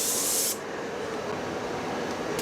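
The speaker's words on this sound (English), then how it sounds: "I'm just spraying really fast, not stopping the gun." A paint spray gun sprays onto wood in a loud, continuous hiss that drops to a lower steady rush after about half a second and keeps going without a break, close up and alone.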